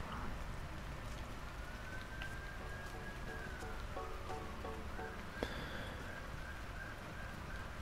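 An ambulance siren passing outside, a faint wailing tone heard indoors behind a steady broadband hiss, with a brief click partway through.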